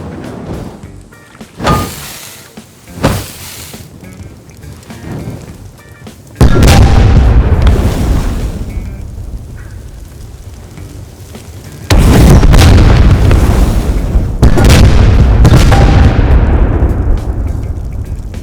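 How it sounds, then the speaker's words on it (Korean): Explosive charges go off in a chain in the Rust video game, several heavy booms in succession, with two big, sustained roaring blasts loud in the foreground. "이렇게 연쇄적으로 폭발이 일어납니다."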